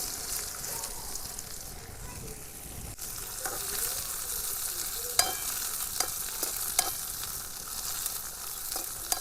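Cumin and gunda greens fry and sizzle in a pan, a steady hiss with a few sharp clicks of stirring against the metal and faint voices in the background.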